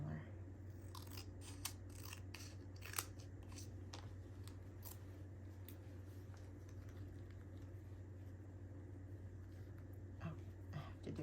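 Scissors cutting paper at a crafting table, a series of quick, close snips and crisp paper crunches in irregular bursts over a quiet room hum.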